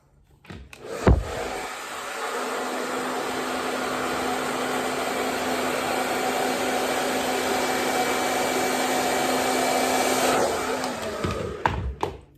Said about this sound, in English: we should have a really nice, straight, smooth blow dry